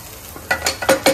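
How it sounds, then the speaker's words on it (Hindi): Hot tadka poured into a pot of chole bursts into a few quick, loud sizzling hisses in close succession, following a brief quiet moment. "तड़का देखिए लग चुका है, तो अब मैं डालती हूँ इसको छोलों के अंदर"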